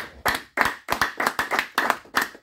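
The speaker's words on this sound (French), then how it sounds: "Est-ce qu'on peut acclamer très fort le Seigneur?" A congregation claps together in church to acclaim the Lord, a series of sharp, loud, evenly spaced hand claps about three per second, with no other sound.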